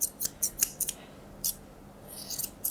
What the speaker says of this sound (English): putting our scissors on that 45-degree angle heading towards his withers